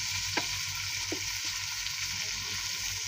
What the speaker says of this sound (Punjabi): ਭਿੰਡੀਆਂ ਮਿਕਸ ਕਰ ਦਿੱਤੀਆਂ ਅਤੇ ਭਿੰਡੀਆਂ ਹੋ ਜਾਂਦੀਆਂ ਇਸ ਤਰ੍ਹਾਂ ਫਰਾਈ